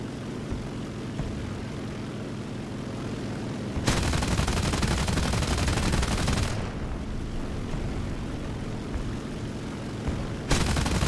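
Aircraft cannons firing in War Thunder air combat come as two dense, loud bursts, one lasting about three seconds and a brief one at the end, over a constant droning aircraft engine, with no talking.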